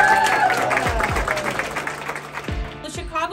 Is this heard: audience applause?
yes